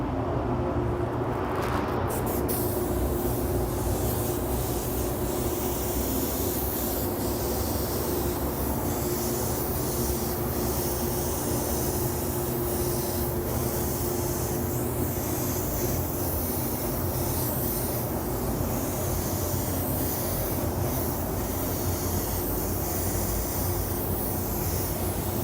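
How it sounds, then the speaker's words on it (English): An LPH 80 spray gun sprays pearl paint in a custom automotive paint job, a steady loud hiss of air that starts with a short burst and then runs without a break to the end. "So I'm going to go ahead and spray a little bit of pearl."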